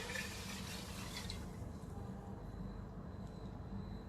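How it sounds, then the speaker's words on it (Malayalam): Water is poured from a glass into rice in a cooking pot for Ayurvedic Karkidaka kanji. It makes a soft, faint splashing that fades after the first second and a half into a quiet trickle. "5 ഗ്ലാസ് വെള്ളം എടുത്ത് വെച്ചിട്ടുണ്ട്, അത് ഇതിലേക്ക് ഒഴിച്ചു കൊടുക്കാം"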